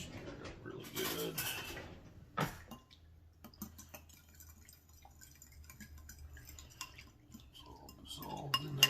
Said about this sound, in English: Stir it up really good.